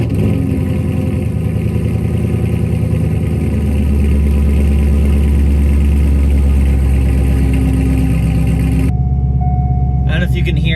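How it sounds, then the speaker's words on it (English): A C5 Corvette running with no exhaust system at all, no mufflers or catalytic converters, revs loudly with a deep, rough rumble and rising engine tones close by, then drops near the end to a quieter idle with rattles. "And now to the Corvette with no exhaust at all."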